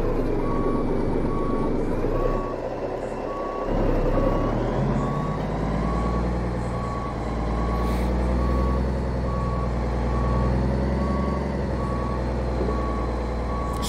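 A Freightliner FLC truck in American Truck Simulator backs up with a steady, evenly spaced reversing beep over a loud, constant diesel engine drone, close and continuous throughout.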